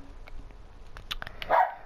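A pet dog named Noodles barks in a few short, sharp yaps at close range, with a louder bark near the end and no talking.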